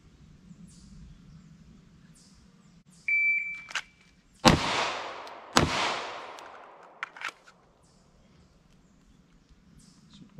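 Shooter draws a pistol and fires two sharp shots at two targets in quick succession, about a second apart, right after a short electronic shot-timer beep, with a quiet background around them.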